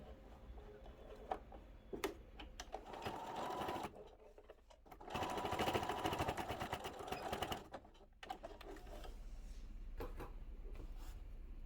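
Sewing machine stitching fabric for a pouch, a steady close mechanical whir that runs in bursts with brief pauses and small clicks between runs.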